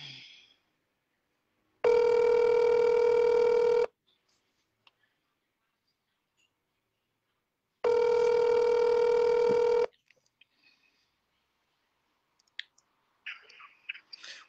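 Two loud electronic telephone rings of about two seconds each, separated by a long pause, with faint clicks and a brief voice fragment afterward.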